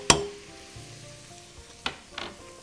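Flour going into an eggplant and cheese mixture in a pan, with a sharp initial clatter, low stirring scrapes and brief sizzling bursts.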